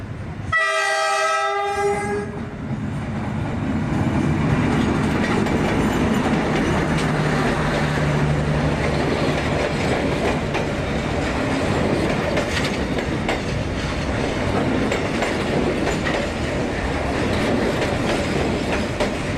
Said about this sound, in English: Several times a day, a train passes through